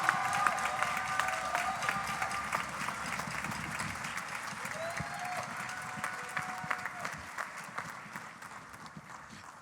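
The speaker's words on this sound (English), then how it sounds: "Give them a round of applause," An audience applauds youth finalists walking onstage at the Hoosier Star 2021 talent competition. The clapping is a dense, fairly distant patter that slowly fades, with a few scattered sharper claps.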